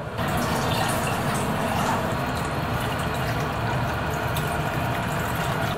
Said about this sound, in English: I'm going to add a little bit of water to the garlic oil